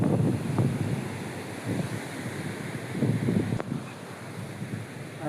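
Sea surf rolling onto a beach on an early morning, a steady broadband wash with swelling surges and wind buffeting the microphone, no voices.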